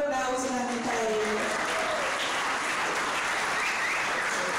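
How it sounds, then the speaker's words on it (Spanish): A crowd applauds strongly at a diploma ceremony, dense sustained clapping throughout, with a voice speaking over the start before the clapping carries on alone at an even level. "Un fuerte aplauso a la gente de ahí."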